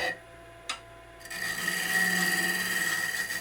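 A Bauer 14x20 EVS wood lathe spins and a tool cuts into the turning wood, producing a steady whirring hum with rising scraping friction after a brief tap, close and continuous, with no talk.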